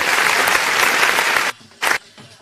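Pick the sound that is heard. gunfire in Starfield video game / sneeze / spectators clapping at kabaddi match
spectators clapping at kabaddi match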